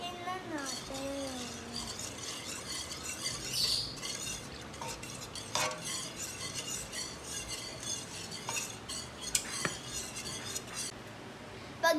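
A spoon stirs maja blanca mixture with a little cheese in a pot, faint scraping and light clinks under a voice talking throughout.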